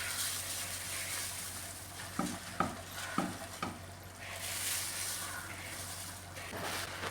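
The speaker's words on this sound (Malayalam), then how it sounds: "ഇനി ഇതെല്ലാം കൂടെ നന്നായിട്ടൊന്ന് മിക്സ് ചെയ്തെടുക്കാമേ." Flattened rice (aval) being stirred in a pan over low heat for aval vilayichathu, a steady soft sizzle and rustle broken by several sharp scraping strokes of the spoon, close and fairly loud, with no talking.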